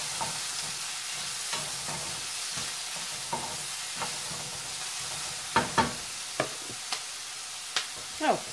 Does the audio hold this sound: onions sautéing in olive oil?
yes